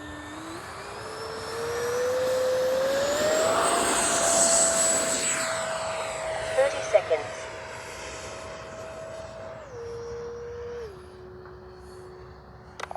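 A Freewing 70mm F9F-5 RC model jet flying past, its ducted-fan whine rising in pitch as it nears and then holding steady and dropping in steps as it throttles back, loud and sustained.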